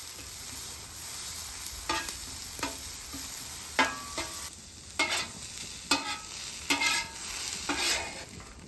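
Meat searing on a hot flat-top griddle with chorizo: a faint continuous sizzle broken by repeated scraping and stirring strokes of a spatula, roughly one per second.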